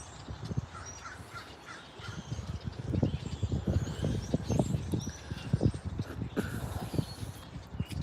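A flock of crows cawing repeatedly in a city cemetery, harsh overlapping calls at moderate distance, with clicking ratchet-like noises mixed in.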